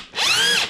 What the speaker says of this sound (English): So see where it's just got the normal drill,